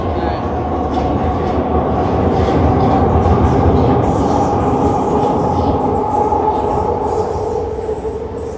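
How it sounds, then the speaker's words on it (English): A train rumbles past close by, a loud, continuous roar of wheels on rails with rattling and faint squeals, easing slightly at the end. "Hold on, wait till the train pass."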